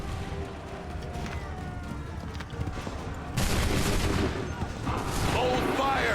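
Musket volley from Assassin's Creed 3, a dense crackling burst of many shots that rises suddenly and rolls on as sustained battle noise, with shouted commands heard beneath the din.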